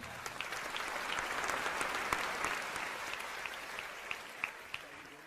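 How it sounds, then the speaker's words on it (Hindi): Audience at a Hindu religious discourse gives a steady round of applause, even and moderately loud, with a few sharper individual claps standing out. "धर्मेंद्र भैया के लिए पुनः तालियां।"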